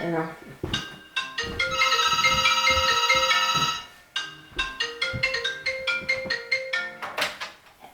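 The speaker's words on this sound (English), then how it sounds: "The phone went this time." A telephone rings in a room with a bright electronic ringtone, sounding in repeated bursts with one long sustained ring, loud and close, mixed with a few knocks and thunks.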